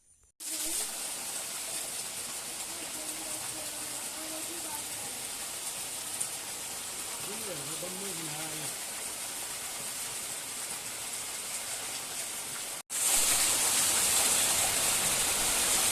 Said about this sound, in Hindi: बारिश आ गई बहुत ही भयंकर यहाँ पे, तो इतनी खतरनाक बारिश आ गई है।